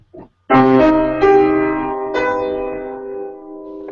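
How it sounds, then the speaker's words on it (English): A single sustained minor major seventh chord, a minor triad with a major seventh, rings out on an instrument, struck with a couple of extra notes, then slowly decays. "It's a minor triad with a major 7th, so it's a minor major 7th."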